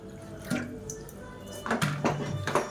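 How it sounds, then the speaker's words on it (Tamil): Water trickles from a vessel into a seasoned mixture of salt and spice for a South Indian kulambu, in short splashy bursts with faint clinks, close and fairly soft, no voices. "கொஞ்சமாக தண்ணி விட்டுக்கலாம்"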